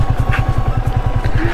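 A motorcycle engine runs with a steady, rapid low-pitched thumping, loud and continuous throughout with no talking, on the way to Garoghuli waterfall at Garchuk near Guwahati.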